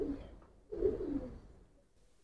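Giribaz pigeons coo nearby in a few soft, low, breathy phrases with brief pauses between them, and a last call starts at the very end.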